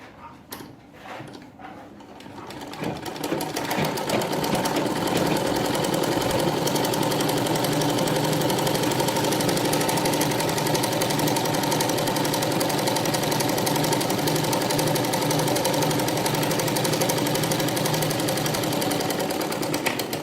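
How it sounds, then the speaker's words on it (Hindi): A sewing machine runs a straight seam on a ladies' straight pant, starting after a few soft handling sounds and then whirring loudly and steadily at close range for the rest of the clip. "जिस तरह से स्ट्रेट है उसको स्टिच करना है"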